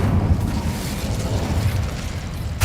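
An Incendio fire spell cast in Hogwarts Legacy, a dense whooshing burst of flame that roars continuously for a few seconds with a fresh flare at the very end, loud and close.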